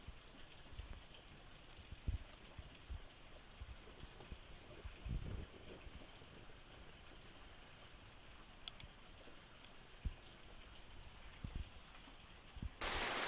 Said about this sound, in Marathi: तुम्ही पावसाचा आवाज ऐकतच असाल मस्त की आपल्या केळीच्या झाडांवरती सुपारच्या झाडांवरती